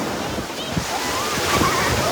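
Waves wash steadily onto a beach near Alappuzha, a broad surf roar with gusty wind buffeting the microphone and faint voices in the background.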